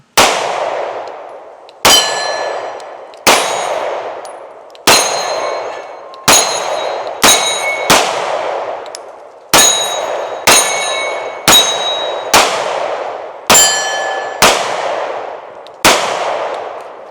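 Smith & Wesson Shield X pistol shots ring off a steel target, about a dozen sharp metallic clangs with decaying ring, spaced roughly one to two seconds apart, loud and close, with no talking.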